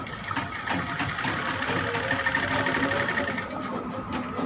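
A sewing machine stitches along the buckram edge of a cuff for a child's kameez, a steady close mechanical whir with rapid needle ticking running without pause.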